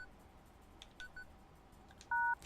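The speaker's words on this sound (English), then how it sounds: "Dial the number." Landline phone in the video game Paper Lily being dialed, a short series of faint electronic key beeps ending in a steady two-tone dial tone, heard alone over a quiet hum.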